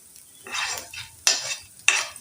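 Onions are sautéed in a pan with curry leaves, giving three short bursts of sizzling and stirring separated by near-silent gaps, close by with sharp spoon-on-pan onsets and no talk.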